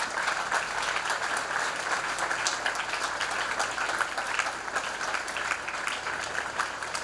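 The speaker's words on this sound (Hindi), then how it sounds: "तालियां रुकनी नहीं चाहिए।" A school audience at a Teachers Day event applauds a teacher called to the stage. Even, continuous clapping holds at a steady level with no pauses and no voices over it.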